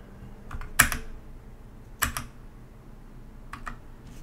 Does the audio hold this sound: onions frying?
no